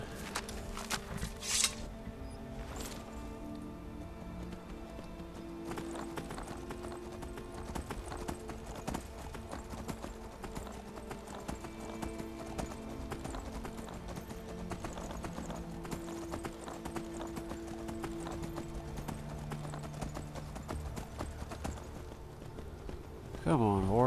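A horse gallops in the video game Skyrim with steady rapid clip-clop hoofbeats throughout, moderately loud, with a brief neigh near the end and game sounds layered around the running.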